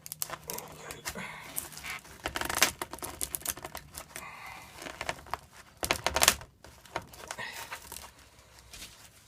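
A plastic motorcycle part mould being prised apart as small spatulas are pushed underneath, giving scattered crackling and crinkling snaps in bursts, fairly close and moderately loud, with no voice.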